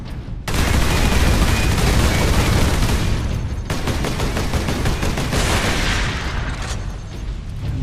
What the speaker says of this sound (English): Sentry guns ahead.